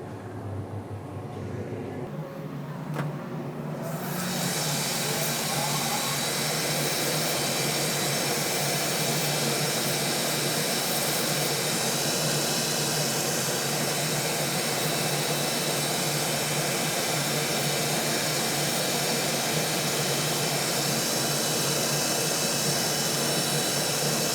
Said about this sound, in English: I'm going to take you over to the grinder real quick.